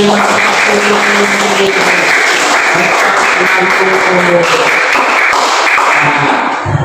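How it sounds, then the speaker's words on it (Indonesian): Classroom of children clapping their hands together during a lesson, a steady dense patter of applause throughout with a few voices mixed in. "tepuk tangan"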